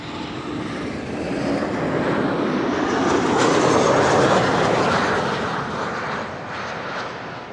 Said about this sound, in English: SAS with an Embraer 195 arriving from Oslo.